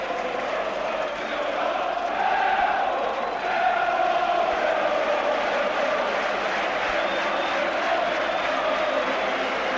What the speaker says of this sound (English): So, tremendous crowd reaction as the teams come out on the pitch